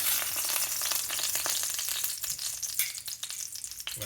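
Chicken pieces browning in hot oil in a pan, a steady close sizzle and crackle with occasional stirring scrapes and clinks, with no voices.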